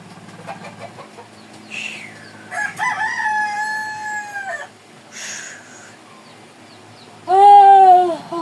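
A rooster crows several times at close range, loud drawn-out calls separated by pauses, with softer clucking and faint background noise between them.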